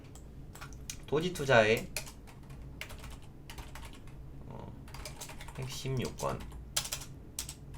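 Quiet bursts of typing on a computer keyboard into a notepad, with irregular clusters of soft key clicks under someone speaking Korean.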